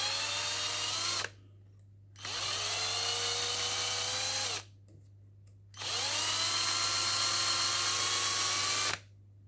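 A power screwdriver backs out screws from a tenkeyless mechanical keyboard in three long whirring runs separated by short pauses, loud and close over a steady low electrical hum, with no talk.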